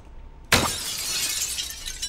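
Glass is struck by a slingshot shot in the Granny video game and shatters with a sudden loud crash, followed by a bright tinkling spray of shards that carries on to the end.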